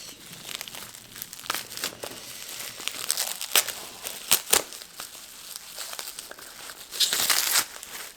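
Plastic bubble wrap crinkles and rustles continuously, with sharper crackling bursts now and then, handled close by and fairly quiet.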